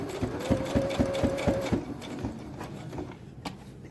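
A sewing machine stitches a 3D fabric face mask in a rapid run of needle strokes that stops after about two seconds, leaving a quieter hum with small mechanical clicks and no talk.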